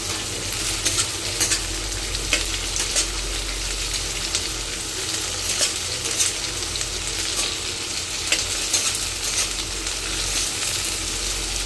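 Onion and green chillies fry in a pan for vaghareli khichdi, giving a steady, loud, close sizzle with scattered crackles and the occasional scrape of stirring throughout, and no voices.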